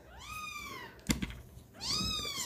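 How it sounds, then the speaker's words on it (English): A cat gives two drawn-out, rising-and-falling meows close by, separated by a brief clatter of handling noise, with a quiet room in the background. "He is meowing."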